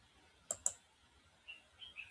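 A computer mouse double-clicks while an installer is opened, two sharp quick clicks in rapid succession, close and quiet, followed by faint small ticks.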